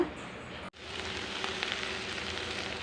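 Garlic frying in oil in a pan, a steady soft sizzle and crackle after a brief cut near the start, moderately quiet and close.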